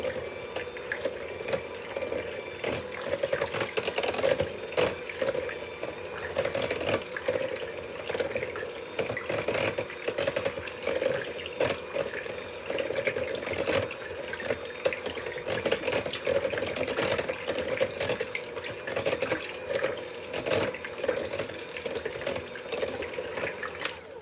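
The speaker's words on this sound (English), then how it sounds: "This is my KitchenAid mixer right here. My KitchenAid handheld mixer. Just gonna mix this up." A KitchenAid handheld mixer whirs continuously through flan batter, a steady close motor hum with a faint watery churn and slight fluctuations as the beaters move, with no voices.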